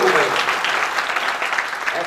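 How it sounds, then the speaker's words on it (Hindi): An audience in Deoria bursts into applause at a business seminar, dense clapping spread across the whole moment with a bright crackling texture, a voice faintly mixed underneath. "जोरदार ताली भाई"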